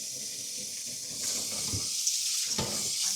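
Raw chicken is rinsed under a running tap, a steady close hiss of water with splashing bursts as the pieces move under the stream.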